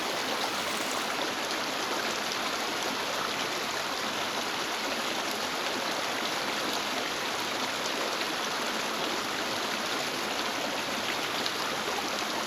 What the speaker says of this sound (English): filming the flowing water